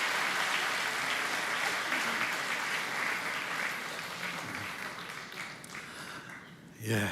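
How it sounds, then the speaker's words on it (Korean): Congregation applause during a Korean church Sunday service, sustained broadband clapping from a crowd that gradually thins and fades toward the end, with a brief louder sound at the close. "우리 큰 박수로 우리 축복해 주시기 바랍니다"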